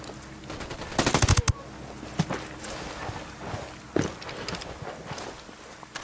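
Ghost Recon Wildlands gunfire: a quick burst of about seven close automatic shots, then scattered single shots and softer impacts amid footsteps and ambient noise.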